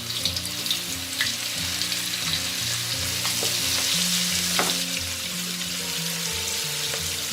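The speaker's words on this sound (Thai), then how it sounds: "นี่ค่ะใส่ลงทอดเลยค่ะ" Flour-coated fermented pork ribs frying in oil over medium heat, giving a steady, dense sizzle and crackle close up, with light stirring clinks and no talking.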